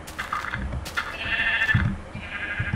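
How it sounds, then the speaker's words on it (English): A black sheep in the video game Minecraft bleats in short wavering calls, fairly clear and near, over faint background game noise, with no talking. "Oh, black sheep."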